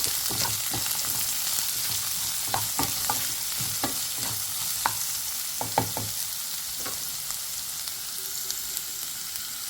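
Onion and carrot sauté in a pan for upma, a steady close sizzle with occasional spoon scrapes and stirring knocks, no talk.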